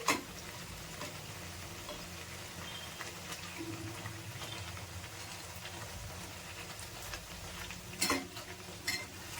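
Mangalore buns deep frying in hot oil, with oil spooned over them, giving a steady close bubbling sizzle throughout, broken by a few sharp scrapes and clinks of the spoon against the pan.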